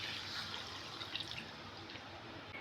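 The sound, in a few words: coconut milk being poured into crab gravy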